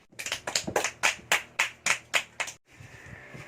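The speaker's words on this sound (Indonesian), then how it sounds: "berikan aplaus kepada teman kalian" Students in an Indonesian primary-school maths class clap for a classmate who answered correctly, a short burst of about eight loud, evenly spaced claps ending abruptly, with a quiet room behind.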